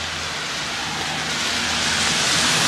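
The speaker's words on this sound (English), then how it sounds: "Believe me, I want it to stop raining too so I can jump on you." Steady rain falling on a Portland residential street, a dense even hiss with a car swelling slightly louder as it passes nearby.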